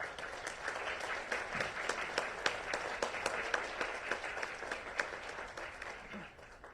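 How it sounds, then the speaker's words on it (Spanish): Audience applause at an academic panel on workplace harassment, a steady wash of many hands clapping at moderate volume with scattered sharper claps, tapering slightly near the end. "un fuerte aplauso"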